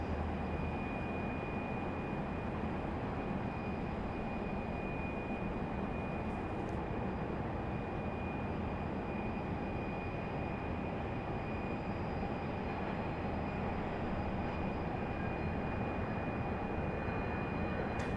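An airliner taxiing at Raleigh-Durham International Airport heard from a distance as a steady, broad jet-engine rumble and roar with a faint constant high whine, unchanging throughout.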